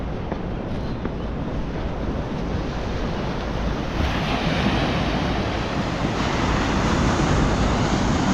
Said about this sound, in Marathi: लाटा बघ एवढ्या मोठ्या मोठ्या येत आहेत